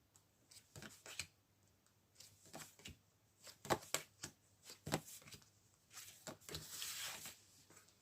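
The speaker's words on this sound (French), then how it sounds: "on peut essayer de tirer des cartes sur le voyage pour essayer d'en apprendre un peu plus sur" Tarot-style cards shuffled and drawn for a reading about a journey, giving a series of soft, papery flicks and riffles close by, with denser rustling toward the end and no talking.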